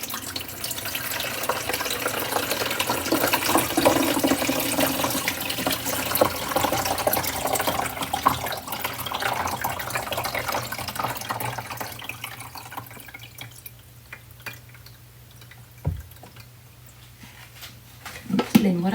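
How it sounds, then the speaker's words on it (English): Water poured from a coffee pot into the front of a drip coffee maker, a steady splashing trickle that tapers off near the end, with a person talking over it. "You take this thing, this coffee pot, and you pour it into the front of the coffee maker."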